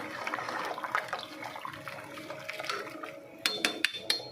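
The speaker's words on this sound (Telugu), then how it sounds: "మసులుతున్న నీళ్ళల్లో కడిగి నానబెట్టుకున్న బాస్మతి రైస్ని, హాఫ్ కేజీ రైస్ని వేసేద్దాం" Soaked basmati rice, half a kilo, tipped into boiling water and stirred, a watery pour and swishing followed by a few sharp clinks of a utensil against the pot at the end.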